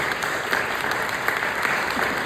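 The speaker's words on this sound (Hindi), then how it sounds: "जोरदार ताली हो जाए यीशु मसीह के लिए।" A church congregation applauds loudly for Jesus Christ during a Hindi-language Methodist service, a steady dense wash of clapping that holds evenly throughout with no voices above it.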